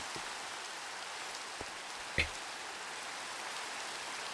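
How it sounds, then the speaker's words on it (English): Steady hiss of rain falling in Minecraft, a soft even wash with a couple of faint taps and one brief thump near the middle. "Oh, it's raining."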